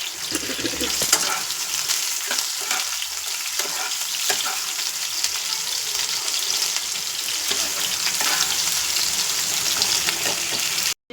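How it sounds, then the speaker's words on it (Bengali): Chopped onions fry in a pan with a loud, continuous sizzle and occasional stirring scrapes, steady throughout with no talk over it. "এবারে দিয়ে দেবো পেঁয়াজ কুচানো"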